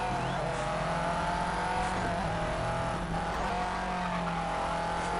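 Subaru rally car engine in Colin McRae Dirt, a steady high droning roar held at constant revs with faint tire noise, loud and continuous throughout.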